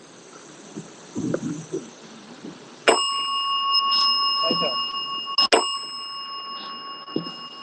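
In a gallery in New Jersey, two sharp bell strikes each ring on with a sustained metallic tone, with faint talking before the first strike.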